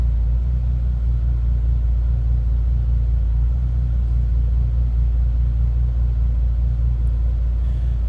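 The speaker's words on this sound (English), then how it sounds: "It's got a little rumble to it. Again, 6-liter W12." A 2008 Bentley Continental GTC's 6-liter W12 engine idles with a steady, deep rumble, loud and continuous throughout, with no voices.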